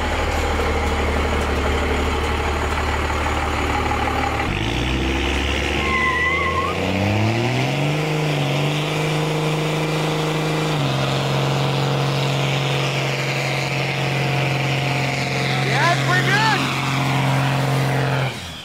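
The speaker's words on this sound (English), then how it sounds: "We'll close this out with the burnout" A first-generation Cummins diesel pickup with roughly doubled horsepower roars continuously through a burnout, its engine pitch shifting and climbing in steps, loud and close throughout.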